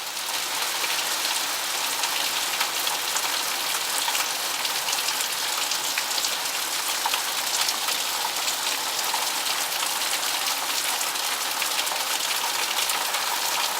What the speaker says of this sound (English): we're having a real movie set rain here